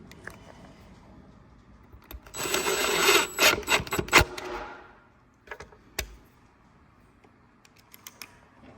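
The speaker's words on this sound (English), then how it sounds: "You want to be careful using an impact gun because you could overpower the screw" A short burst of rapid mechanical rattling and hammering from an impact driver driving screws into tabletop fasteners, followed by scattered clicks and knocks in an otherwise quiet space.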